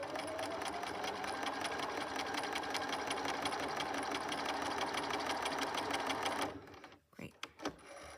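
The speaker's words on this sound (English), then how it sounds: "And I'll sew all the way across, keeping the line exactly at the edge of the presser foot." A sewing machine runs steadily while stitching a quarter-inch seam, giving a fast, even mechanical chatter up close that stops abruptly near the end, followed by a few faint handling clicks.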